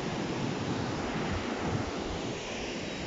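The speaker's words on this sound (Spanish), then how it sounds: "aquí se mira todo el mar" Ocean waves at Playa La Perla beach in Jicalapa, La Libertad, El Salvador, wash as a steady, broad roar of surf mixed with wind buffeting the microphone, continuous and fairly close with no voices.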